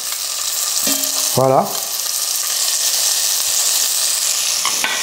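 Meat browning in butter in a frying pan gives a steady, moderately loud sizzle throughout, with a brief burst of a voice partway through.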